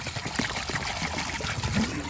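Water running into the rusty fuel tank of a 1984 Honda 125M three-wheeler that holds loose nuts and bolts, a close trickling, gurgling pour with small splashes throughout.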